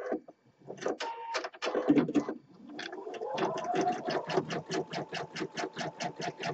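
An embroidery sewing machine basting fabric to tear-away stabilizer, stitching in a quick, regular mechanical rhythm of clicks and whirring, close and moderately loud.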